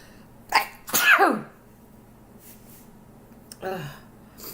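A person sneezes twice in quick succession, a sharp close burst followed by a longer explosive one, then a softer third sneeze-like burst a few seconds later in a quiet room.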